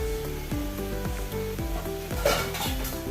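Palak leaves are stirred as they fry in a pan, a soft sizzle and scraping under loud background music, with a brief louder scrape near the end.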